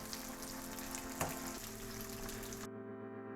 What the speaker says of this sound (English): So we're gonna stir fry the tofu a little bit.